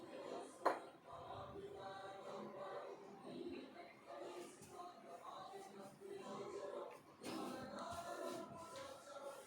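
Mutton curry is stirred in a cooking pot, with a near continuous run of soft metallic scraping and clinking of utensil against the pot. It is quiet and faint, with a brief sharper knock near the start.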